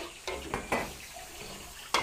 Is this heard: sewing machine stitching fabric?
no